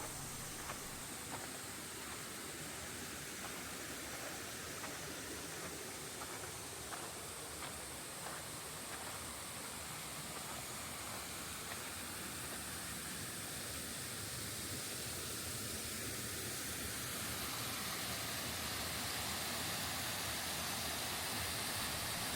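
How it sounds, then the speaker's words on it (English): Steady broadband rush of a waterfall in Yushien Garden, a constant, even roar of falling water filling the whole stretch with no voices. "the waterfall is as impressive as I remembered it to be"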